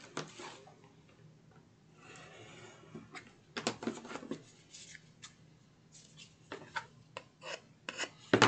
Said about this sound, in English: now I'll just take my finger blade and go in and remove the excess